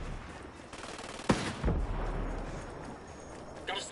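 Gunfire in a snowy military shooter video game, heard as a couple of sharp bursts amid rumbling battle noise, moderately faint.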